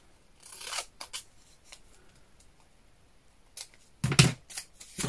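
Scissors snipping paper into a straight edge for a craft folio, a few short crisp cuts with quiet gaps between, close to the listener.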